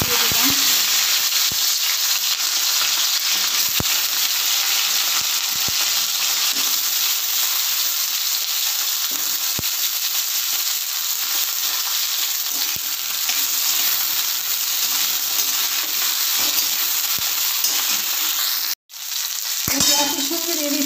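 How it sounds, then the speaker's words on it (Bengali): Vegetables such as cauliflower frying in ghee and refined oil, a dense, steady sizzle and crackle lasting throughout, loud and close, with occasional stirring scrapes and a brief dropout near the end. "ঘি আর রিফাইন্ড অয়েলে আমি সবজিগুলো ভালো করে ভেজে নেব।"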